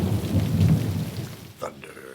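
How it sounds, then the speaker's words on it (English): Thunder rumbles low and loud through steady rain, swelling early then easing, with a sharper crack near the end; no one speaks. "Thunder."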